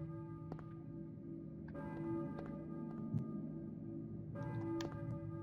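Bells at the Balkan Church in Silent Hill ring with repeated sustained, overlapping tones that swell and fade over a steady low ambient hum, fairly faint and without talk.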